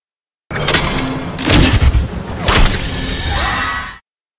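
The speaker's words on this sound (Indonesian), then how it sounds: "Culebra juga melepaskan sebuah tembakan hingga mengenai bahu Martin" A gunshot in a gangster film fight rings out sharply, among several loud, abrupt booms and crashes that form a short, dense burst of action effects with no talk.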